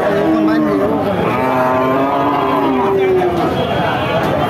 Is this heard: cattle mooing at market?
yes